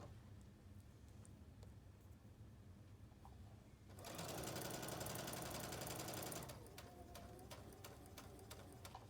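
A sewing machine stitches a quilt seam in a steady, fast mechanical whir lasting a few seconds, rising clearly above a quiet room and then stopping, followed by soft clicks.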